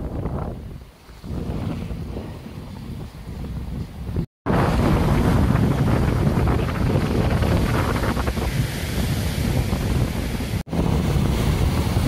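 Atlantic surf on a Gran Canaria shore crashes and rushes in a loud, continuous roar, with heavy wind buffeting the microphone and a couple of brief dropouts.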